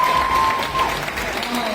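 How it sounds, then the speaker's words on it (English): Audience applause at a business conference fills the short stretch as a dense, loud wash of clapping, with a voice heard faintly over it. "Round of applause, please."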